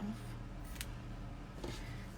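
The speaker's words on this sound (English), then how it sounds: "Let me get my ribbon scissors here and cut this off." Two quick snips of ribbon scissors cutting ribbon, fairly close, against a quiet room background with a low hum.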